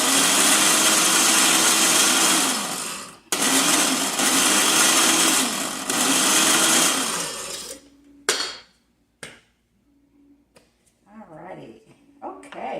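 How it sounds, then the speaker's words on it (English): Electric food grinder whirring loudly in two bursts of several seconds each, stopping abruptly, followed by quieter handling clatter and a voice talking. "I think I need to grind it a little bit more."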